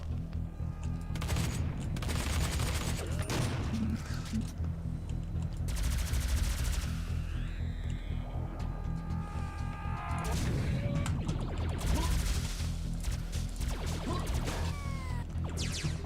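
Sustained automatic gunfire and bursts in Battlefront 2 multiplayer, dense and loud throughout with repeated volleys and occasional booms, no speech.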